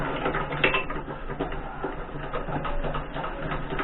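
A vise on a Rage 2 metal-cutting saw with a 355mm blade is tightened, giving a steady run of close mechanical ratcheting clicks and grinding without pause.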